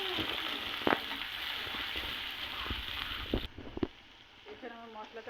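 Spices sizzle in hot oil with onion and cinnamon in a pan for a Bengali hilsa fish bhuna, a steady hiss broken by a few stirring clatters before the frying quiets and turns softer.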